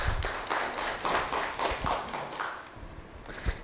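Audience at a corporate security event in Kolkata gives a round of applause for a speaker, a fairly faint, thin patter of scattered clapping that tapers off toward the end.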